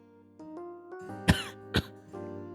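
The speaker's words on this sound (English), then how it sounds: "My vision fades as I cough." Two sharp, close coughs from a young man with a cold, the second following quickly after the first, over a soft sustained musical backdrop.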